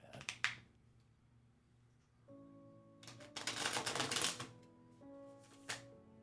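Tarot cards are shuffled by hand in a few separate bursts of rapid riffling and clacking, close to the listener, over a soft sustained musical background.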